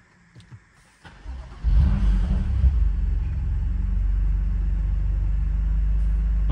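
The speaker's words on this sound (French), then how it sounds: "Regardez-moi le démarrage à froid" A 2019 BMW M2 Competition with a 411 hp engine cranks and fires on a cold start, flaring briefly to a loud rev before dropping into a steady, deep, rumbling idle close by.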